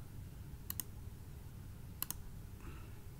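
Two quick double clicks of a computer mouse, spaced about a second apart, crisp and close against a low background hum in a quiet room.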